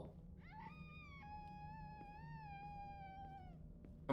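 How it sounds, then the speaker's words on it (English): Eerie drawn-out wail in a scary video game, a harmonic cry rising and holding for about three seconds, more animal or dog-like than human, over a low droning ambience, with a sudden loud hit at the end. "Someone is screaming."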